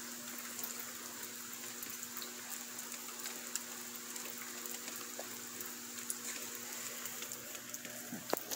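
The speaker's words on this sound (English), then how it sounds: "It's starting to rain." Steady rain falling outdoors in wet conditions, a faint continuous hiss with a few scattered drop ticks, distant and even throughout, with no one speaking.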